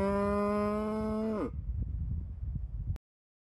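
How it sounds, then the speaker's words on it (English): Cow mooing in a Mario video game, one long loud sustained moo with a steady pitch that drops off sharply at the end, followed by soft clattering background noise and then abrupt silence. "Emotional moo."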